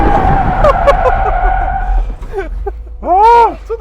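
A drift car accelerates hard, its engine revving in rising, wavering tones with a squealing, whistling sweep toward the end, loud and close, while voices call out briefly.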